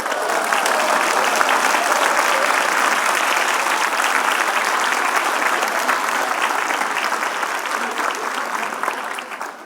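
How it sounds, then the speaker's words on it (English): Audience at a seminar giving partners a big round of applause, dense sustained clapping from a large crowd filling the room and slowly easing off. "give your partner a big round of applause"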